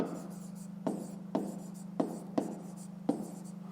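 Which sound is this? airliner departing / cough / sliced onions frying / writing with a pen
writing with a pen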